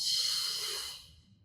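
A long, steady exhale during a beginner Pilates exercise, a close breathy hiss that carries strongly for about a second and then fades into quiet room tone.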